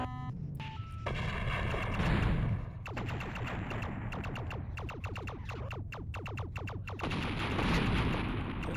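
Rapid volleys of enemy laser shots in the 3DO space combat game Shockwave, played on original hardware, crackle in dense repeated bursts with sweeping tones over a constant low engine rumble, loud and close.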